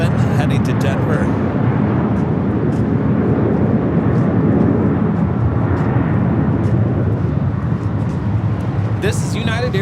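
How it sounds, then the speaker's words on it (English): A United Airlines Boeing 757-300 jet roars down the runway on takeoff at a busy airport, a loud sustained broadband engine rush that fills the whole stretch, with faint clicks and noise at the edges. "This is United Airlines 2061 taking off to Denver. 757-300."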